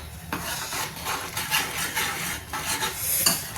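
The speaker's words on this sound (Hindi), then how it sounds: "अब इसमें हम इसको मिक्स करेंगे।" Masoor dal cooked with spinach being stirred in a pan, with soft scraping and gentle sizzling strokes repeating at an irregular rhythm, close and moderately loud with no talking.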